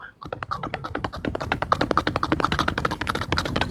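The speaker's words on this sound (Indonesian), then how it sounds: "ngetik dia sekarang ngetik" Rapid, steady keyboard typing, close and fairly loud, a continuous run of quick keystroke clicks with no talk over it.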